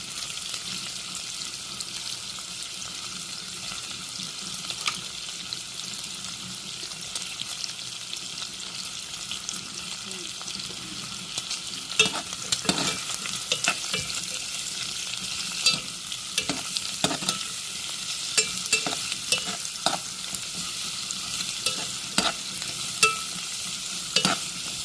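Onions frying in a pan while being stirred: a steady, close sizzle runs throughout, with scraping and clinking stirring strokes growing more frequent in the second half.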